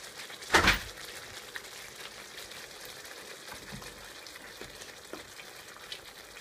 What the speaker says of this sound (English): Leave it frying away on the bottom.